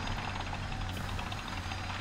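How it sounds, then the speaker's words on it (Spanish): Helicopter in a video game battle, a steady droning rotor and engine hum heard from a distance behind constant background noise, with no talk. "Y un helicóptero también, creo."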